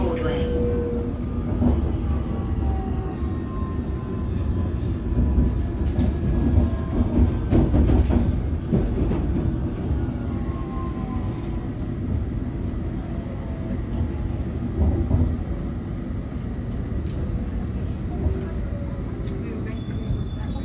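A London Underground District Line train runs between Turnham Green and Gunnersbury toward Richmond, its steady low rumble and rolling wheel noise filling the carriage, with a recorded announcement voice speaking over it.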